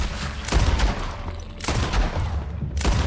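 Gunfire in Red Dead Redemption 2: three loud, sharp shots spaced roughly a second apart, each with a booming tail over a rough outdoor background.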